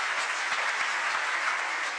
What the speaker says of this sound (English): thank you for the very warm applause